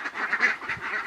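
Ducks resting out in the sun give a short burst of nasal quacking, fairly close and continuous across a brief moment, with no talking.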